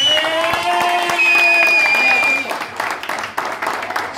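Audience applause at a Romanian music event, steady crowd clapping mixed with music tones and voices for about two and a half seconds, then thinning out.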